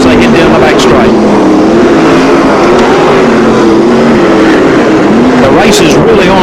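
Sprintcars at Archerfield Speedway during the 1996 National Sprintcar Championship roar down the back straight, a loud, continuous engine drone with shifting pitch as the cars race, and a commentator talks over it.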